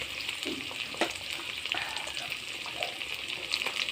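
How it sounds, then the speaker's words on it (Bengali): Crabs fry in a hot pan with salt and turmeric, giving a steady close sizzle with light crackles and soft stirring scrapes that run unbroken throughout. "আমার কাঁকড়াগুলো ভালো করে ভাজি হয়ে গেছে।"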